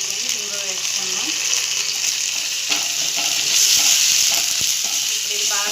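Ginger-garlic paste and asafoetida frying in hot oil, a bright steady sizzle with scattered clicks and scrapes of stirring, loud and close throughout.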